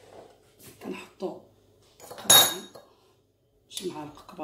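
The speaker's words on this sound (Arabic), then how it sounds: "شي معالق كبار ديال السكر ما يجيناش حلو بزاف" Large spoons clinking against a bowl while scooping sugar for bread dough, a few sharp metallic chinks and scrapes scattered among short pauses.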